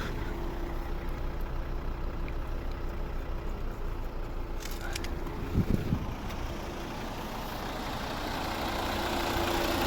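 The 2.0-litre diesel engine of a Volvo V60 D3 automatic idles steadily up close with a low, rumbling drone and a brief clatter midway, then gradually grows slightly louder.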